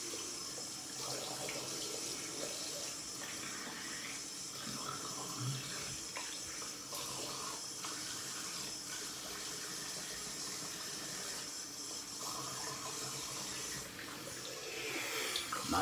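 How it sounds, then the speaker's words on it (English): Water runs steadily from a bathroom tap while a face is rinsed after a wet shave, a soft continuous splashing hiss with faint irregular spatters, fairly quiet and unaccompanied by speech. "I'm gonna rinse on camera today"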